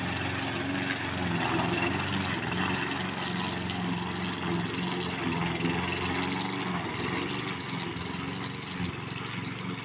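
A STIHL RM 248T self-propelled lawn mower with drive engaged runs steadily and loudly throughout, its engine drone constant and close with no pauses.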